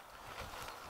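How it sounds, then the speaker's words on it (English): Brief buffeting wind noise on the microphone, a rough rumbling whoosh with no voices. "Sorry about the wind noise on here, but rather windy days"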